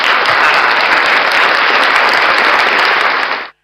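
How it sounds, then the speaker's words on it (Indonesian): Dense audience applause fills a school hall at SMA Kristen Tunas Harapan during a Teachers' Day podcast, holding loud and steady before cutting off abruptly. "Tepuk tangan bro."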